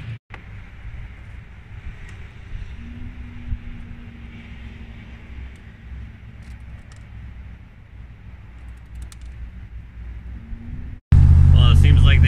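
Steady interior road noise from a car driving along, a low continuous rumble with no talk, ending in a sudden loud burst of handling noise.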